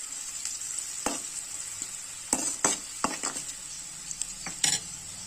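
Onions and turmeric stir-fried in a pan for an eggplant curry give a steady high sizzle, with several sharp utensil scrapes and clinks against the pan at irregular intervals.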